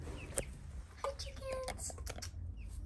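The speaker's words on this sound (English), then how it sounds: "The chickens are in the garage right now" Chickens kept in a home garage give soft, scattered clucks and short calls, quiet and close amid light background noise.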